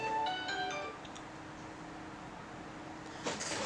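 A phone ringtone sounds an incoming call, a short repeating melodic tone near the start that then stops, followed by faint room hum and a brief rustle at the end.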